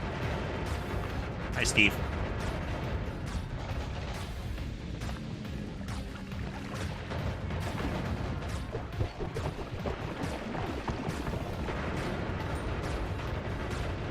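Bomb explosions in Noita, a chaotic ongoing rumble of blasts and crashes with a brief sharp pop, under someone talking over the game.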